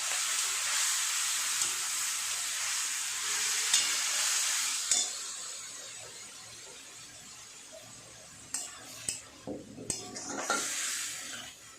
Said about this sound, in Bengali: এটা আর একটু ভালো করে কষিয়ে নেব।